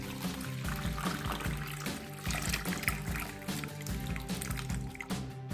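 Water from a freshly opened tender coconut pours in a steady, close trickle with small splashy gurgles throughout, fairly quiet and with no talking.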